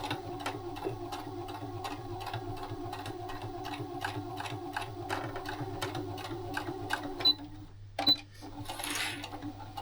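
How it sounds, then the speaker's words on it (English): Sewing machine stitching along a fabric zipper with a zipper foot, a rapid, regular mechanical clatter running steadily, then stopping near the end with a few clicks and a short rustle. "So sew as close to the zip as possible."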